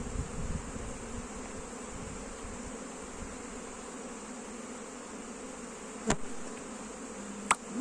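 Continuous droning hum of many honeybees buzzing close by, with a couple of brief sharp clicks.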